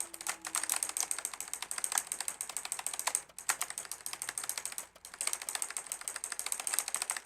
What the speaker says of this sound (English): hear me spamming E or spamming the keyboard in the microphone